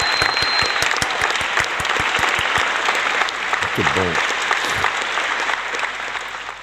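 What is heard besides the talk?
applause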